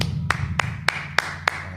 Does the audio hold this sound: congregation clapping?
yes